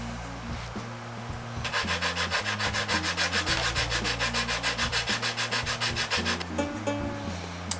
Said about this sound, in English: So we'll do some very interesting sanding.